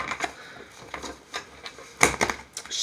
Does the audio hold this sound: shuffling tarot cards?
yes